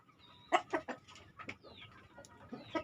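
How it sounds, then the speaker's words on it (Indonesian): Several farmed chickens cluck and squawk nearby in short irregular bursts after feeding, with a few higher calls mixed in. "Ini ayam-ayam sudah selesai makan."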